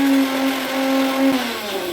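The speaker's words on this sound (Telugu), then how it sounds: "ఓన్లీ ఆకులు మట్టుకే మిక్సీ జార్లో వేసి మెత్తగా మిక్సీ పడుకున్నా" A kitchen mixer grinder whirs steadily and loud while blending spinach leaves for palak puri, its motor tone holding even and then dropping slightly in pitch near the end.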